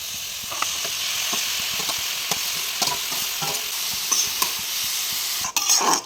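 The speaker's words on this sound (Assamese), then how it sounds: "মোৰ কাঠফুলাখিনি দিবলৈ সময় হৈ গ'ল এতিয়া মই ঢালি দিম" Mushrooms tipped into hot spiced oil in a pan, with a steady close sizzle and repeated scrapes of stirring throughout, and a brief clatter near the end.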